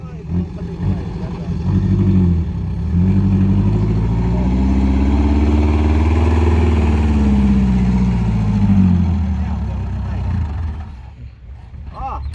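A dump truck's diesel engine runs loud and close during a power test, its pitch climbing and falling through slow revs before dropping away, with voices talking over it.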